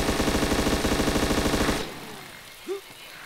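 Rapid automatic gunfire from the DayZ video game, a loud sustained burst of evenly spaced shots that stops abruptly and leaves a quiet tail with a brief faint sound near the end.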